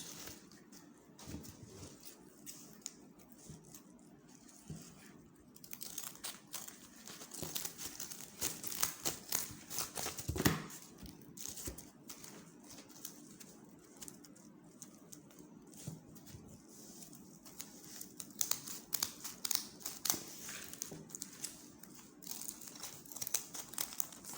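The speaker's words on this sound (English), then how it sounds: "Then place it on the remaining straw and cut it out." Scissors snip through old straw from a straw hat, making soft, irregular crinkly cuts and rustles at low volume with no voices.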